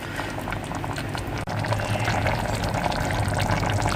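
Green beans cooked in olive oil simmer in a tomato paste sauce, giving a steady, close bubbling and crackling that continues evenly throughout.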